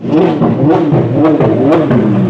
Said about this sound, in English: Heard that coming a mile away. The Apollo IE rolls on through.